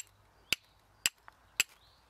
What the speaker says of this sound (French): j'utilise une vieille lame de scie à métaux que j'ai juste découpée simplement. Ça fait le travail de faire des étincelles.